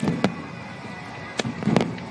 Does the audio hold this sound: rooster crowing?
no